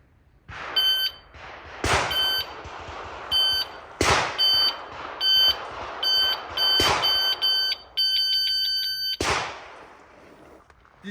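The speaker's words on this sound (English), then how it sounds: "Buzzer back, buzzer forth." Sharp, loud beeping tones from a shot timer sound in short repeated bursts, punctuated by several sudden percussive gunshot cracks spaced a couple of seconds apart.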